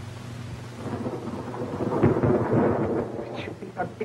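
A night thunderstorm, with heavy rain pouring steadily and a deep rumble of thunder swelling through the middle, loud and close with no voices.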